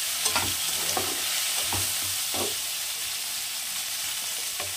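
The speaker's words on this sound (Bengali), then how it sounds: "এই সব কিছু দিয়ে মশলাটাকে খুব সুন্দর করে কষিয়ে নিতে হবে।" Masala of ginger paste, garlic paste and chopped tomatoes sizzles in a pan while being stirred for a Bengali small-fish curry, with a steady frying hiss punctuated by several scraping spatula strokes.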